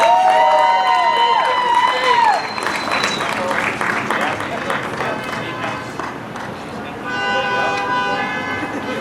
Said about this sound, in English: Let's have a round of applause for Barbara Holmes.